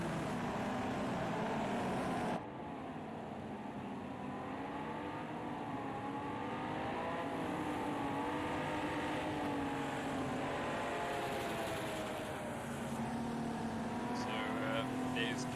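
Vintage GT race cars circling the Oschersleben track on a warm-up lap in Project Cars 2, a steady layered engine drone with shifting pitch, continuous and fairly loud, with a voice talking over it.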